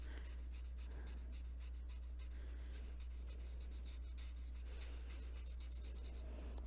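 Marker or colored pencil scratching and rubbing across glossy coloring-book paper, a steady close-up scribbling texture of quick repeated strokes that continues quietly throughout with no talk.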